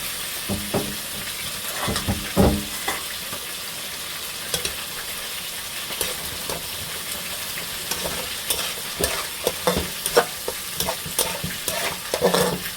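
Onions and bay leaves frying in mustard oil, a steady sizzle broken by frequent spatula scrapes and clinks against the pan, close up.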